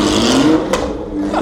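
A car engine at a busy car gathering roars loudly and steadily up close, its pitch climbing slightly as it revs, with a constant whirring drone throughout.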